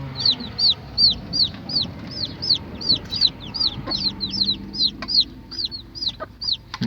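Newly hatched turkey chicks peep over and over in a steady run of high, rising chirps, close and clear, with a soft low rustle underneath.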